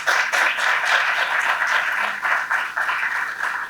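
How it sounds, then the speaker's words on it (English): An audience at an art and environment event applauds loudly, the clapping sustained with slight rhythmic surges for a few seconds and no voices over it. "Let's give them a huge round of applause."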